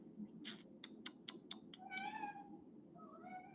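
A house cat gives a quick run of short, sharp meows followed by two longer, drawn-out mews, close and clear over a soft low background murmur, with no talking.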